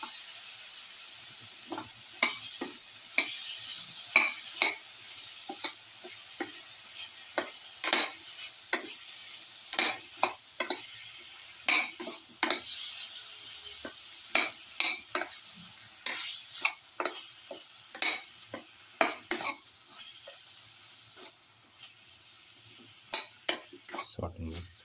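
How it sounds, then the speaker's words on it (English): Tomato pieces and eggplant sautéed and stirred in a casserole, a soft sizzle under repeated scraping and clacking of a utensil against the pot in an irregular rhythm, close and fairly quiet. "Put in the tomato piece, thoroughly saute and mix in the casserole."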